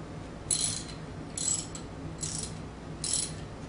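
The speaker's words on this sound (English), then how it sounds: "we'll take our ratchet, insert the socket to it" A hand ratchet with a socket tightens the bolts on an Arimitsu Model 3 Series high-pressure pump. Four short bursts of clicking come about a second apart, close and clear, with no talking.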